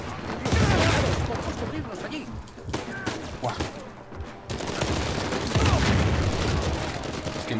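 Uncharted 4 video game gunfire: dense, loud bursts of rapid shots and booms that come in waves with a short lull, while a voice briefly exclaims.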